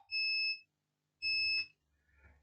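A multimeter in continuity mode beeps while its probes test a MOSFET on a Samsung laptop board during charging-port repair. Two short, shrill electronic beeps sound close together, followed by faint clicking and handling noise.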